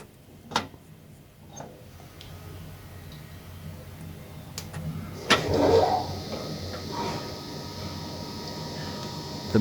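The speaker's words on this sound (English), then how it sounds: "I can record the audio of this generator running up to full" A DC motor-generator set on a classic Otis lift spins up toward full speed: a few clicks and thumps, then a hum and whine rising about halfway through and holding steady at moderate loudness, with no talking.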